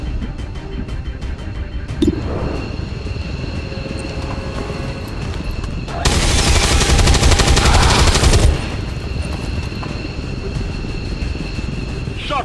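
Gunfire from the tactical strategy video game XCOM 2, a dense loud burst of rapid shots about two seconds long in the middle of a steady game soundscape with background hum and scattered clicks.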